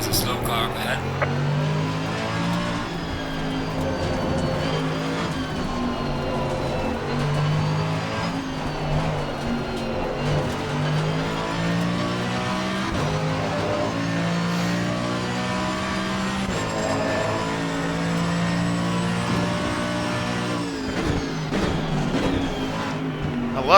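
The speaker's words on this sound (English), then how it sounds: "I love it, hear it echoing off the wall." Mercedes-AMG GT3 Evo race car engine in Assetto Corsa Competizione at Indianapolis, a loud steady roar with shifting revs and a reverberant echo off a nearby wall, continuous throughout with occasional talk underneath.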